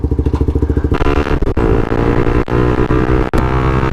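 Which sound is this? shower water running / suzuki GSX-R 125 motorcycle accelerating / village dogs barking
suzuki GSX-R 125 motorcycle accelerating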